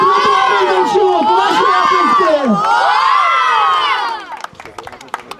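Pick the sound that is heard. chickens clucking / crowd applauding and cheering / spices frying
crowd applauding and cheering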